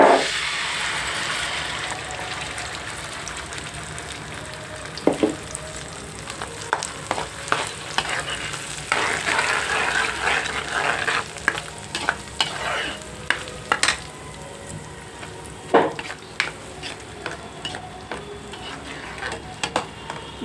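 Masala for a restaurant-style paneer and cashew curry fries in a pan with a steady close sizzle. Irregular stirring scrapes and sharp clinks of a spoon against the pan run throughout.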